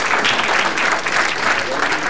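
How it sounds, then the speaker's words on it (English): Brief church audience applause, a dense burst of close clapping from the congregation, loud and steady throughout with some voices mixed in. "Let's give Thomas a round of applause."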